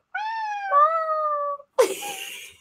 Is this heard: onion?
no